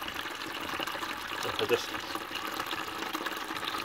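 Water runs from the tap of a wheelie bin converted into a rainwater butt, a steady close gush and splash lasting the whole moment while someone speaks briefly over it.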